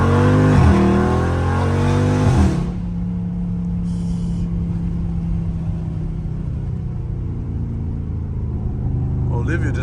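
Dodge Scat Pack V8 revving hard during a launch in traffic, a loud rising engine roar for a couple of seconds that then drops to a steady low rumble and idle hum.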